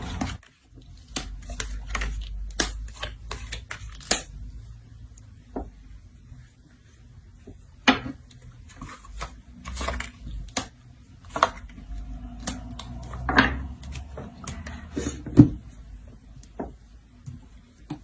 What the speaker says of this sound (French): Je préfère mélanger tout de même.